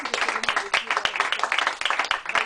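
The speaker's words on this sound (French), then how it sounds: "On va demander à tout le monde dans le studio d'applaudir Milo d'être venu avec nous" A studio audience claps during a French radio interview in Marseille, with quick, sharp, uneven hand claps close by, mixed with voices talking over them.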